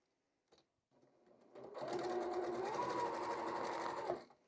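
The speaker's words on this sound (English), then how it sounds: "it's probably better sewing because now I have the smaller amount of fabric riding on top of the larger amount of fabric" A sewing machine stitches quilt fabric seams, starting after a couple of soft handling clicks, then running in a fast, steady close-up whir for a few seconds before stopping.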